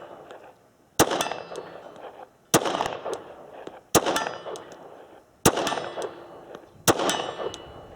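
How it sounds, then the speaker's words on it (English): Five sharp Glock 19X pistol shots, each followed by the ringing clang of a steel target hit at 41 yards, spaced evenly over several seconds with a lingering metallic tail after each shot. "The first one I'm going to shoot at will be the 41 yard closest one."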